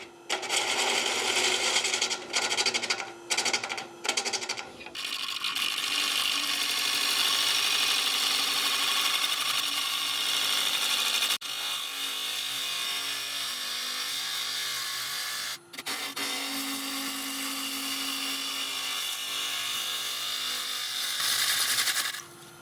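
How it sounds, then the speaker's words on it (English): Bowl gouge making a one-handed bevel cut down toward the base of a giant segmented wooden bowl spinning on a lathe, a steady broadband shearing hiss with a brief pause and a few stuttering cuts early on. "that's a one-handed bowl gouge bevel cut going down towards the base"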